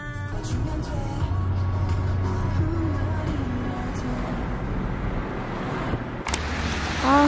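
Steady road rumble and engine hum from the inside of a moving car on Jeju Island, continuous and fairly loud, with a brief bump or clunk near the end and faint voices in the cabin.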